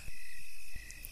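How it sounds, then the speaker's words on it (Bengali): Crickets chirp in a steady high drone along a lonely dark night road, with a brief low thump partway through. "আধার রাতে নির্জন এই পথে শুধু ঝোনাকি পোকার ঝিঝি শব্দ"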